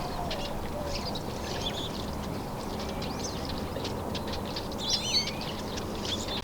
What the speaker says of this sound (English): Can you guys hear these birds? They're so vocal.